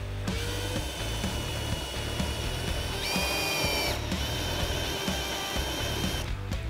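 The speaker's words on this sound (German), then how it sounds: "Und mit diesem Pfostnerbohrer tun wir es jetzt nochmal ansenken." A power drill with a Forstner bit cuts a countersink, giving a steady close whine with a sharper rise in pitch partway through and faint clicks underneath.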